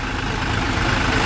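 A tractor engine idles steadily while pulling a small wagon at a Turkish beach resort, a loud, continuous low rumble that stays even throughout, with no voices.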